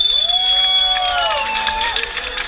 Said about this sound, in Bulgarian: Аплодисменти за Балет Корвет!